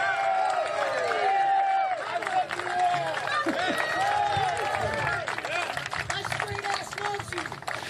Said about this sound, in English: Round of applause for Kenneth